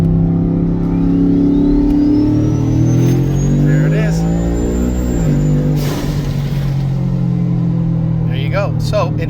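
The turbo engine of a Ford F150 revs hard while brake boosting in second gear, a loud sustained roar with a rising turbo whine, then a shift as the note drops, with a voice talking over it.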